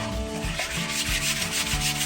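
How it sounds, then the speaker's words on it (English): A pumice stone scrubs the water line inside a toilet bowl in rhythmic back-and-forth strokes. The rasping rub is close and loud, with no talk. "Now I always use a pumice stone just because of that water line level"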